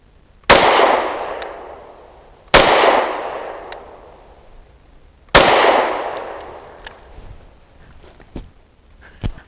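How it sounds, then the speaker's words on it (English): Pistol shots from a Canik METE MC9L at an outdoor range, three sharp loud reports each with a ringing decay, spaced about two to three seconds apart, followed by fainter clinks; fewer than five are clearly heard. "Five shots from 7 yards."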